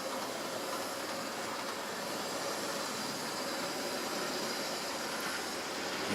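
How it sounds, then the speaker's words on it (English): A Bachmann 8-pin Class 37 model locomotive, the Lass O Ballochmyle, pulls into platform 2 with a steady, even rumble and hiss that holds at a constant level throughout, with no voices. "a Bachmann 8-pin Class 37 loco, the Lass O Ballochmyle. She pulls into platform 2."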